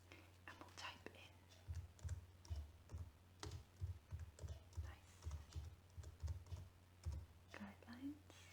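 Steady keyboard typing of a Google search, a rhythmic run of soft clicks and thumps recorded close and quiet, with faint whispery breath sounds around it.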